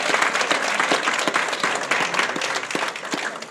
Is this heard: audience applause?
yes